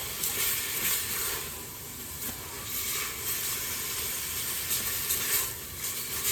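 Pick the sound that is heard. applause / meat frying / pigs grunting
meat frying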